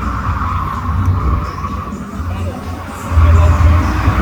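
A drift car at a Doncaster racecourse motorshow, lower than 700 brake horsepower, revs hard around the track with a loud, sustained engine roar that surges louder near the end, crowd babble and faint commentary underneath.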